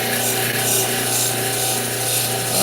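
Stone cabochon being worked on 3000 grit while shaping its dome, a steady close-up rubbing and grinding hiss with a constant motor hum underneath, running continuously without pause.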